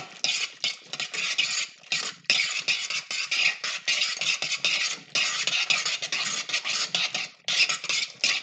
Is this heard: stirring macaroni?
yes